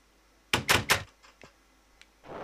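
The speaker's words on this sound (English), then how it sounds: "Open the door." A Minecraft door opens as a quick cluster of three sharp wooden knocks, followed by a softer thud and another short burst a moment later, close and clear over near silence.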